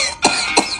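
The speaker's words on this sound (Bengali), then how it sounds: "ওই ছেলেরও মনে হয় যক্ষা হয়ে গেছে, কাশতে কাশতে শেষ" A boy coughing in a meme clip, two short harsh bursts close together, loud and near with no other voices.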